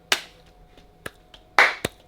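A few scattered soft hand claps, four or five separate sharp slaps spread unevenly, light and close, a small sparse round of applause with no talking.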